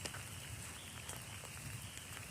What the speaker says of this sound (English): Still taking pretty heavy rain out here.